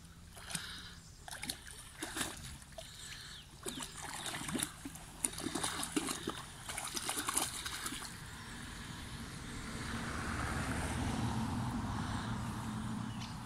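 A dog swims through clean, shaded water, its paddling making steady splashes and trickling water sounds, with louder bursts of splashing early and a broader wash of water noise later.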